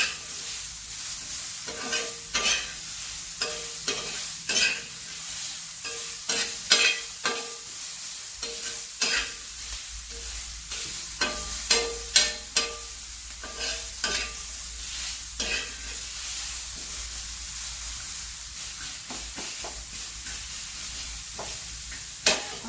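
Onion, garlic and ginger frying in a pan while a spoon stirs and scrapes, giving a steady sizzle broken by frequent sharp clacks at an irregular rhythm, close up with no voices.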